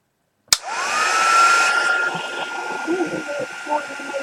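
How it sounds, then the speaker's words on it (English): A heat gun blasts onto freshly painted model pieces, starting abruptly with a click and settling into a steady, loud rushing whine that holds throughout, with faint handling noises underneath. "Heat gun a moment."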